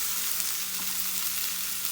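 Sliced okra (ladies finger) roasting in a hot pan gives a steady, close sizzle that holds evenly throughout, with a faint low hum underneath and no voices.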